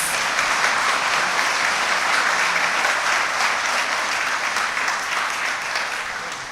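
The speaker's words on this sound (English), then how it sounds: "Give the quartet another round of applause." A graduation ceremony audience applauds a quartet, dense sustained clapping filling the room for several seconds before beginning to taper, with no speech over it.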